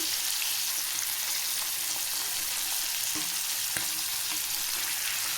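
Fish pieces fry in a pan with a steady, dense sizzle and crackle throughout, with a couple of brief sharper pops and no talking.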